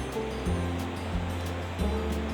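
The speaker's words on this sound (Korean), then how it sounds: "홍유동 계곡에서 들려오는 물소리는" Continuous rushing water of a mountain valley stream in Gayasan National Park, South Korea, a broad steady roar like water flowing over rocks, loud and close with no voices.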